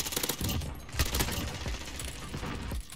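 Rapid, continuous fire from a regular gun in Call of Duty: Modern Warfare, a loud fusillade of closely spaced shots running the whole stretch with slight dips between bursts.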